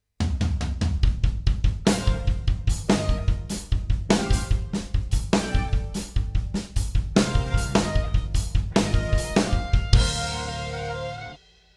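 A drum kit plays a groove with an accented fill spread across the toms and snare, dense rhythmic hits at a quick tempo, ending on a ringing cymbal crash that decays alone.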